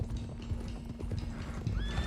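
Horses trotting with steady clip-clop hooves and a whinny near the end, from the Red Dead Redemption 2 video game, loud and close over a low rumble.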